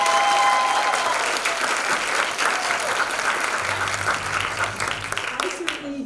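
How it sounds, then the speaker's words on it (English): Audience applause at a university Three Minute Thesis competition, a dense sustained roar of many hands clapping that gradually thins toward the end, loud and close, with a faint voice underneath. "Can we give one more big round of applause for our competitors?"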